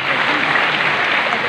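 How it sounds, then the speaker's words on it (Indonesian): A large hall of university scholarship students claps in a dense, even burst of applause for the short moment, steady and loud without any clear break. "tepuk tangan dulu"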